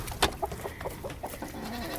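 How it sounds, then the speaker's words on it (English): Dominique chickens and a rooster on a homestead hurry in toward put-out feed, with soft, scattered clucks and short calls at close to moderate range over a quiet outdoor background. "I've put out the food and let's meet the chickens."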